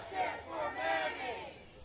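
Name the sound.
crowd of protesters chanting in Tacoma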